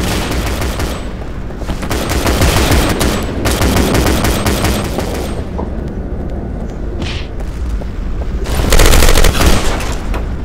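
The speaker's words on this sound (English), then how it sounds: "Wow, someone shooting me." Continuous bursts of gunfire in the online shooter Double Action on a rooftops map, loud and dense, with steady shots and a heavier volley near the end, no talk.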